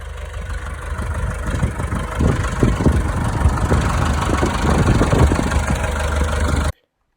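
A tractor engine runs steadily at close range, a continuous low rumble with a slight rise in intensity midway, then cuts off abruptly just before the end.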